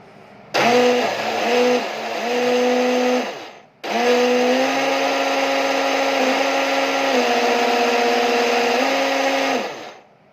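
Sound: RC boat propeller motor whirring

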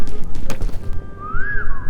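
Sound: character whistling in the video game Peak

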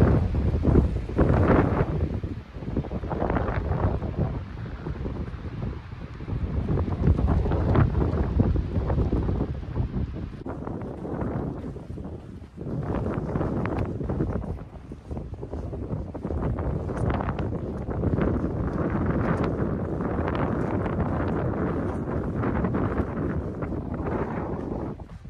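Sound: wind by Purple Lake, John Muir Trail

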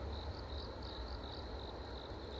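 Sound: crickets chirping

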